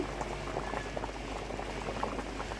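Turmeric-and-salt-marinated hilsa fish go into a simmering curry with arum root, giving a steady close bubbling and liquid burble that stays even throughout.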